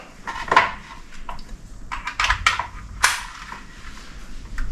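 A gas stove burner being lit clicks and ticks sharply several times in quick, irregular bursts, close and fairly loud, with no talking.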